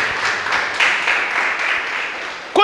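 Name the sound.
congregation applauding in church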